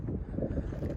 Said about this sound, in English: It is pretty windy out here right now